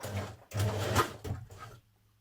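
Short bursts of a sewing machine stitching sleeves into a jersey top, a close whirring run broken by brief pauses, ending in quiet.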